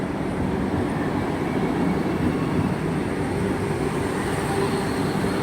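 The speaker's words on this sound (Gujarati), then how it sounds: "આ વંદે ભારત ટ્રેન છે જે દ્વારકા તરફ જઈ રહી છે." A Vande Bharat train bound for Dwarka rolls through Sabarmati broad gauge station with a steady, loud rumble and rattle of wheels on track, heard close, throughout and without talking.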